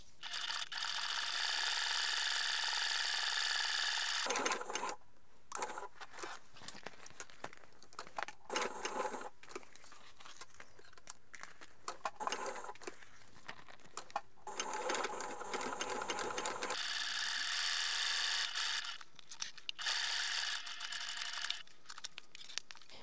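A sewing machine runs in bursts as it stitches a toiletry bag with bias binding, its fast mechanical whir starting and stopping several times, close and clear between short pauses.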